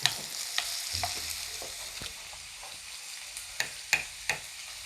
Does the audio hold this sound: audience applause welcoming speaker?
no